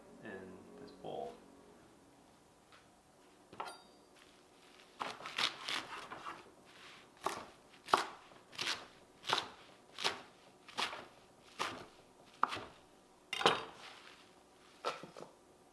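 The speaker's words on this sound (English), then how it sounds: "we're going to start by just chopping these up a little bit and salting them in this bowl" A knife chops garlic scapes and mustard greens rhythmically on a cutting board, a series of sharp, evenly spaced thuds close by, after a few quieter handling sounds.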